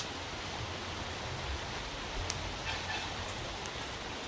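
Steady rain falling outdoors by a home vegetable garden, a continuous soft hiss with a faint patter throughout and no talking.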